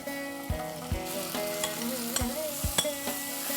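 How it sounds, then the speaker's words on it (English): Marinated mutton sautéing with onions on a high flame, a steady sizzle broken by sharp scraping thuds of a spoon against the pan every half second or so, with no talking. "continue to saute for 3 to 4 minutes on absolutely high flame"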